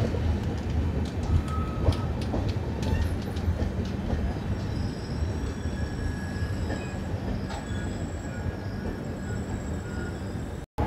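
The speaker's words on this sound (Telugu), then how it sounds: "సత్తెనపల్లి రైల్వే స్టేషన్ నుంచి మన ట్రైన్ అయితే బయలుదేరిపోయింది" A Kakinada Port–Bhavnagar superfast express train pulls out of Sattenapalli railway station, its steady wheel rumble and rail noise heard from aboard, with faint high wheel squeals and clicks over a continuous loud roar.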